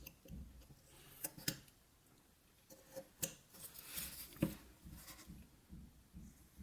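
A knife whittles a small wooden kitten figure, its blade making faint, scattered scraping and snicking cuts with short pauses in between, close up and quiet.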